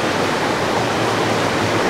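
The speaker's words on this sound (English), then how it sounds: "it's bringing water up here. See how it's dumping the water? It's dumping the water" A wooden water wheel on the Quay Son River in Cao Bang, Vietnam, pours water it has lifted, a steady broadband rush of splashing and falling water, close and continuous with no voices.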